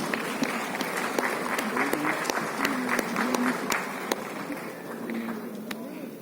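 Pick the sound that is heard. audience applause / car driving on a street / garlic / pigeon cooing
audience applause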